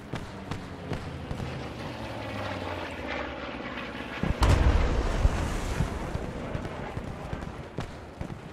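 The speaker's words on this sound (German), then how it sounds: "Achtung, Flugzeug." A military aircraft roars overhead in the WWII shooter game Post Scriptum at Arnhem, a steady droning engine that swells sharply midway, with distant gunfire pops and brief talk around it.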